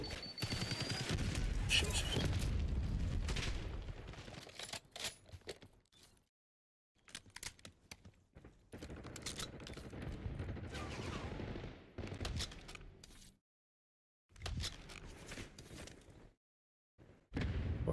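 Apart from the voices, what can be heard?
SMG gunfire in the video game Black Ops 6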